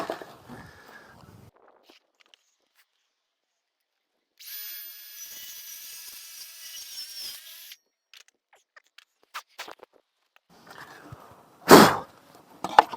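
A power tool cutting off a screw gives a steady whine lasting about three seconds, preceded by quiet shuffling and followed by scattered handling clicks, footsteps and a loud throat-clearing cough near the end.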